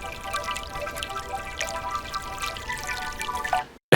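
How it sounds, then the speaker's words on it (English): A river flows steadily in a short film setting, a continuous rushing and trickling wash of water at moderate loudness, cutting off abruptly at the very end. "there's a river, and it just sounds like a river"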